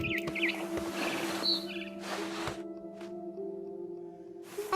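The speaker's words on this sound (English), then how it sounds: "Then I heard chirping outside my window." A barn swallow returning to her nest chirps in short high notes near the start, set against a steady tonal game ambience with soft bursts of rustling and wind, in What Remains of Edith Finch.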